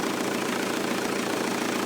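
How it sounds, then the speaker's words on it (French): A car engine idles steadily during an alternator test, a continuous mid-to-low running drone heard up close under the open bonnet. "on entend bien le moteur tourner"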